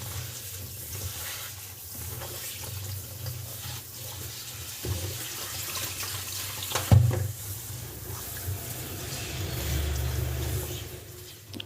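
Tap water runs steadily as chopped mixed vegetables, including Malabar spinach, are rinsed in a home kitchen, a soft continuous splash with occasional louder bumps and no talk.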